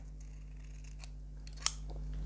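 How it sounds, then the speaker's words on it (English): Scissors cut violin finger tape in a few faint, quick snips, with one sharper, louder snip near the end, over a steady low hum. "use our scissors to cut from both edge."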